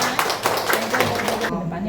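Hands clap in quick bursts at a service excellence training session in Indonesia, several people applauding together at close range with speech-like voices mixed in before the sound cuts off near the end.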